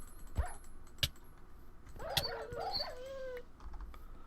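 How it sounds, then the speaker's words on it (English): Dog in modded Minecraft (1.12 SevTech Ages) giving soft whimpers and yips, a few short whiny cries among sharp clicks and taps, faint and close. "Oh, it's a dang dog."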